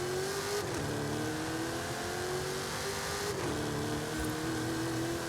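A Mercedes G-Class tuned to 874 hp accelerates hard in a racing video game, its engine note climbing loudly through the gears with two distinct shift dips along the way, and no talk over it.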